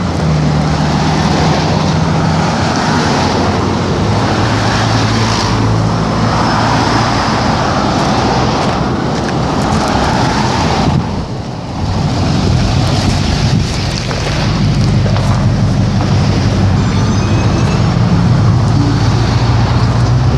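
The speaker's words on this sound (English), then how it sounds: "Goodness me, that's a whole lot of cars." Road traffic streams past on a walk to college, with a steady loud roar of cars passing close by, mixed with wind buffeting the microphone and a brief dip partway through.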